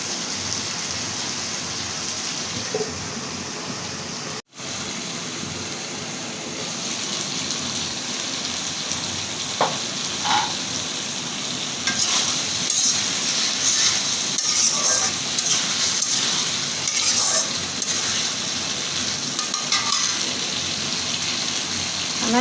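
Taro stolons frying with ripe tomatoes in a pan, a continuous loud hissing sizzle with intermittent stirring scrapes, briefly cutting out once before resuming louder, no talk.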